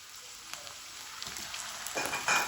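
Green peas dropped into hot cooking oil in a pan, a soft crackling sizzle that is faint at first and then swells into a louder, denser spatter near the end.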